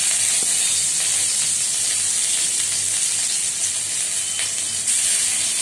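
Ginger and garlic paste frying in mustard oil with panch phoron and two chillies, giving a steady, close, bright sizzling hiss that holds evenly throughout with faint scattered crackles and no talking.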